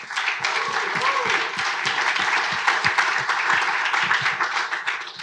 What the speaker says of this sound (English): let's give a quick round of applause to Zendesk